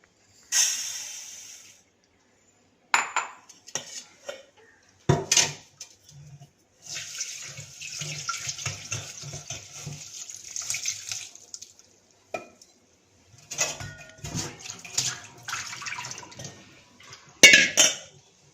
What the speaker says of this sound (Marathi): आता आपण तांदूळ प्रथम धुवून घेऊया. धुवून ठेवायचा आहे, भिजवून ठेवायचा नाही.